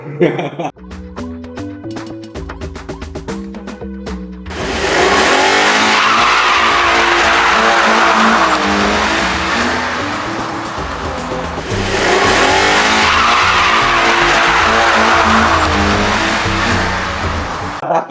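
Drifting car on a wide-bodied, bagged 86 with tires loudly skidding and squealing, engine revving underneath, sustained roaring screech building and holding through most of the stretch after a burst of engine noise.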